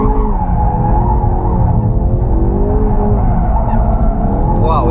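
Loud, continuous tire squeal from a drifting Ford Focus RS in drift mode with stability systems off, with a roaring engine underneath and shifting pitch as the skid varies.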